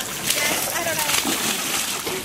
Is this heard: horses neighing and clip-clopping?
no